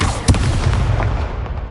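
Levioso spell cast in the Hogwarts Legacy video game: a dense, booming magical burst with a sharp crack near the start, then a sustained rumbling whoosh that slowly fades, loud and close, with no talking.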